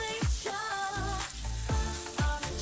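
Onions grill over a dry firewood fire beside pork belly, hissing and sizzling up close with thin whistling squeals of escaping steam and soft recurring pops, no voices.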